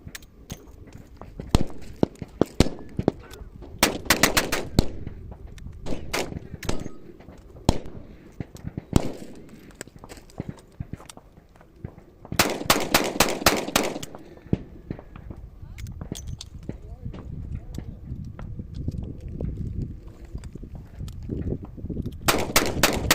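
Rapid shots from an EAA Windicator .38 revolver crack out in tight bursts of several rounds, loud and close, separated by pauses with quieter handling noise and speech between strings.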